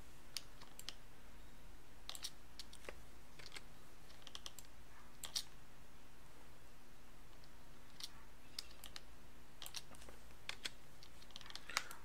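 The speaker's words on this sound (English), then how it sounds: "My shift button is wearing out. I need a new keyboard." Clicks of typing on a computer keyboard with a worn shift key, sparse irregular keystrokes at moderate distance over a steady low hum.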